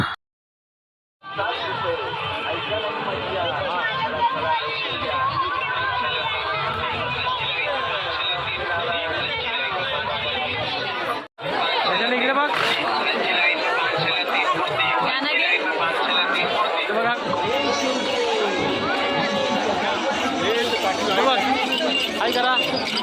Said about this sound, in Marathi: आज मी जाणार आहे चौलच्या यात्रेला आपण जाऊया चौलच्या यात्रेमध्ये मित्रांनो आता आम्ही आलो यात्रेमध्ये खूप गर्दी आहे आज यात्रेला